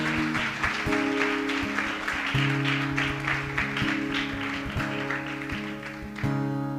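A church congregation applauds steadily, the clapping layered over sustained organ or keyboard chords, continuing throughout.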